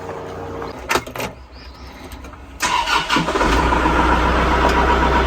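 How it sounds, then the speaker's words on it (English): A tractor engine cranks and catches after a couple of brief starter bursts, then settles into a steady, fairly loud idle; a bird chirps faintly early on. "I'm gonna go ahead and get on the tractor"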